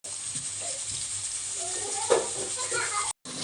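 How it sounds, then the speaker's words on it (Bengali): Vegetables frying in a pan of oil, okra and potato among them, giving a steady broadband sizzle throughout with a brief louder crackle near the middle, close and moderately loud. "চলো এগুলোকে ভাজিয়ে চেক করে"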